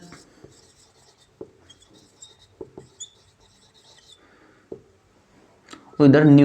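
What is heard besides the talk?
writing on a board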